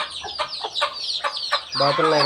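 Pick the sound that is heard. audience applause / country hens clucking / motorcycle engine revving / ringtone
country hens clucking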